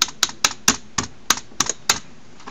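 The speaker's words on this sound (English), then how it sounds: "I'm literally spamming spacebar" A computer keyboard spacebar is pressed repeatedly during a lagging anime fighting simulator game, making about nine sharp, close plastic clacks in an uneven quick rhythm with no talk.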